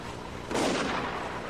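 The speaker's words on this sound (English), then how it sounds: "Sounds like a sniper. Pretty close by the sound of it." A sniper rifle fires nearby in the video game Spec Ops: The Line: one sudden loud crack that rolls into a sustained booming echo and fades slowly.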